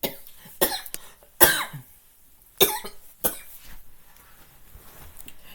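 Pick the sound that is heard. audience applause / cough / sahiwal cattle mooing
cough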